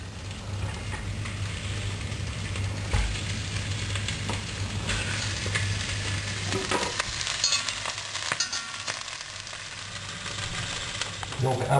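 Steady crackling sizzle of chicken pieces frying in olive oil with whole garlic cloves in a pan, close up, with occasional stirring scrapes and a low hum underneath.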